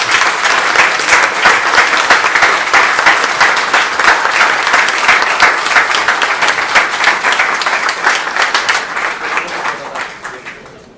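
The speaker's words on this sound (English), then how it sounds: "We all give Thanathorn a warm round of applause," Warm, sustained applause for Thanathorn Juangroongruangkit from a crowd at the Foreign Correspondents' Club of Thailand, dense steady clapping that holds strong for about ten seconds before thinning slightly at the end.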